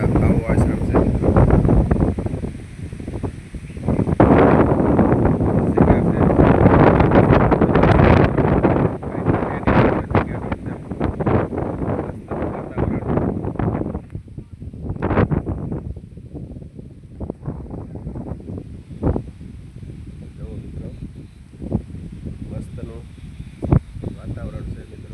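Strong gusty wind at the Kabir Saheb ashram in Kashan village, Mahuva, Bhavnagar, buffets the microphone in loud bursts of roaring noise, heaviest early and then dropping to sporadic gusts and rustles.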